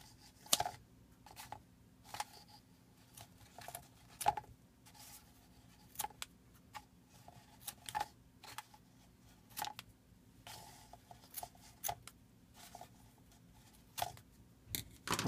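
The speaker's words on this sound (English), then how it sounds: "I'm going to just trim these pieces of string." Scissors trim pieces of string for a homemade paper xylophone in a quiet room, a series of short crisp snips at irregular intervals, close and fairly soft, with faint rustling between cuts and no talk.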